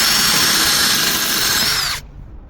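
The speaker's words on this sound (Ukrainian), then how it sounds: "Спробуємо цей самий отвір, що я тільки що просверлив." A Vitals Professional AU 1840 cordless drill with a 4 mm bit drills into material with a loud, steady high whine for about two seconds, then stops abruptly, leaving faint room noise.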